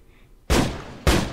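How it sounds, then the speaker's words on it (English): Two loud gunshots fired inside a house, each a sudden heavy blast with a reverberating tail, spaced about half a second apart after a quiet start. "Suddenly, gunshots came from inside the house."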